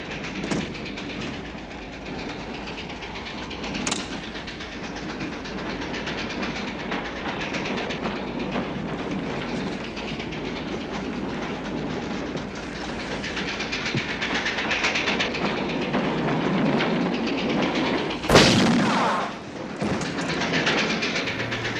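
Steady rattling clatter of a train rolling on rails during the captive sequence aboard a train in Once Upon a Time in the West, continuous and fairly loud, with a sharp bang near the end and no talk.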